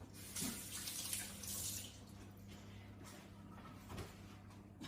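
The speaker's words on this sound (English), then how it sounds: "My hands a quick rinse." Tap water runs steadily into a kitchen sink as hands are rinsed, a close, continuous splashing hiss with a couple of brief knocks, no talking.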